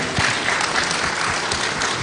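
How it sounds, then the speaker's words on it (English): Audience applause for Minister Johnson Smith at the 10th Jamaica Diaspora Conference, a dense, steady wash of clapping from a sizable crowd filling the whole moment at even loudness. "Can we get a round of applause for Minister Johnson Smith, who has joined us?"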